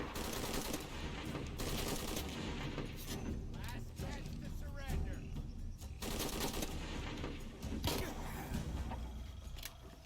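Gunfire rings out while shooting enemies in Shadow of the Tomb Raider: repeated loud, sharp shots in uneven bursts across the whole stretch, with someone talking over them.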